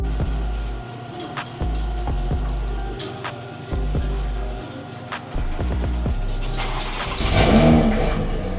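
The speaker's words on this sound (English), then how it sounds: "I'll show you guys me cold start, drive the car off and whatnot" A BMW car with a B58 engine cold-starts: a few short cranking bursts, then the engine catches and rises in a loud rev before settling, heard close up.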